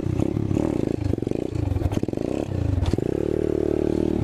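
Apollo 125cc dirt bike engine revving hard during a wheelie attempt, a buzzing engine whose pitch rises and falls in bursts over clattering and scraping, ending in a steady high rev.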